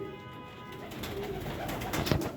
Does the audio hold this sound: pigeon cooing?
yes